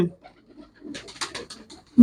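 Pigeons kept for sale, red-headed, black-headed and pure white birds, give soft scattered coos and rustling bursts in an otherwise quiet space, with a louder sound at the very end.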